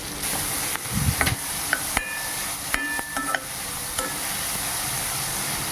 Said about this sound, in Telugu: ఉల్లిపాయ ముక్కలు పచ్చివాసన పోయేంత వరకు బాగా బ్రౌనిష్ కలర్ వచ్చేంత వరకు కలుపుకోవాలి.